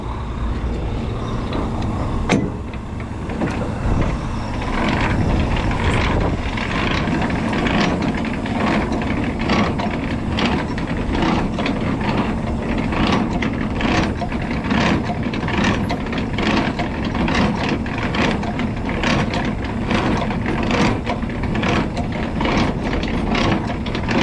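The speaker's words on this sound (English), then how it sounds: "Now we're going to raise our landing legs." A semi-trailer's landing legs are cranked up by hand, giving a long run of rhythmic ratcheting clicks and gear noise close by, over the low idle of the truck engine.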